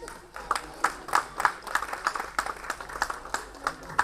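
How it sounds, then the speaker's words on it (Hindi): Sparse audience clapping welcoming prize-winning children at an Ambedkar Jayanti celebration at IIT Delhi, heard as scattered, irregular claps of moderate loudness in a hall, with a faint murmur of voices underneath. "कृपया तालियां बजाते रहें,"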